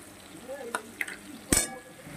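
Spices and mustard paste sauté in a pan for a chutney of Malabar spinach stems, potato, pumpkin and lentil dumplings: a faint sizzle under scattered quick scrapes and clinks of a stirring spoon, with one louder knock near the end.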